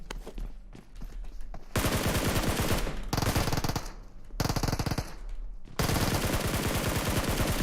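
Rapid bursts of automatic gunfire in a shooter video game, loud and dense, with several long sustained volleys separated by brief quieter gaps.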